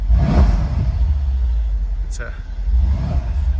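A 2015 Mercedes SL63 AMG's deep engine rumble with a quick rev that rises and falls, heard up close, a brief sharp chirp partway through.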